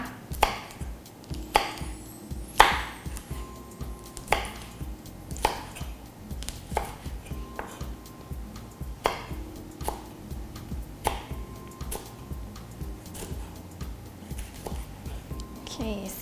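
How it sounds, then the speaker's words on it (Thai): Knife slicing red chili peppers diagonally on a cutting board in steady, repeated strokes, close and fairly quiet, with faint talking in the background. "พริกชี้ฟ้านะคะ ให้หั่นเฉียงๆนะคะ"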